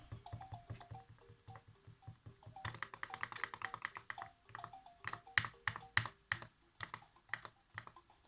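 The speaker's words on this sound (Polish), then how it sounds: "Dużo klikania, prawda?" Rapid, soft clicking taps in an irregular rhythm, close and fairly quiet, continuing steadily for several seconds with no voices.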